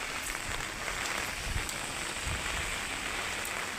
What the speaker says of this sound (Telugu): పొద్దున్నే ఈరోజు వర్షం స్టార్ట్ అయింది